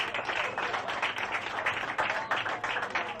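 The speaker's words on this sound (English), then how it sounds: "clap your hands for Mr. James Haley," Audience clapping at a comedy roast, a dense, steady patter of many hands that keeps going at a moderate level for several seconds.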